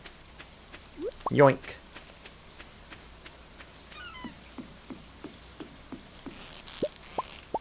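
Steady rain falls in the Stardew Valley video game during ocean fishing, a soft continuous patter under scattered plinking game effects, with a brief spoken word partway through.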